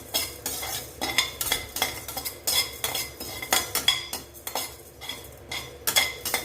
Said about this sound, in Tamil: சிம்மில் வச்சுக்கோங்க நல்லா வாசம் வர வரைக்கும் வறுத்து கொடுக்கலாம்